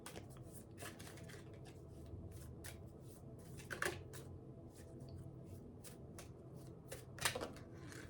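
Oracle cards are shuffled at a kitchen table, giving a steady papery riffling with frequent soft flicks and two sharper slaps as cards pop loose, close and fairly quiet, with no talking.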